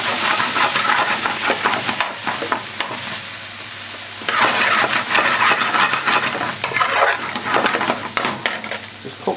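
Tomato paste cooks off in a hot pan for chicken jalfrezi, producing a loud, continuous crackling sizzle with surges and scraping bursts as it is stirred, no talking.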